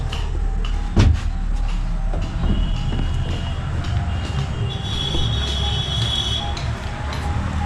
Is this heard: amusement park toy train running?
yes